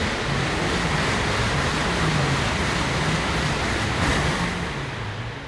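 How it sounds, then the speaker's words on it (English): A train shoots past at speed right up close, a dense, loud roaring rush of wind and rail noise that holds steady throughout and eases slightly at the end. "And this train just shot by."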